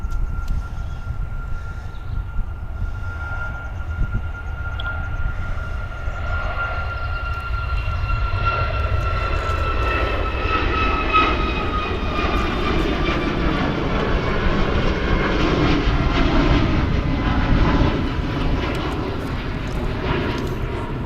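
A passenger jet on the Antalya flight roars down the runway and climbs away from Manchester, a loud, sustained engine rumble with rising and falling whine tones that swell and shift as it passes, no voices.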